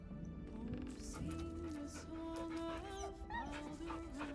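A dog in the video game Baldur's Gate 3 whimpers and yips in high, wavering whines, close and continuous over game background sound.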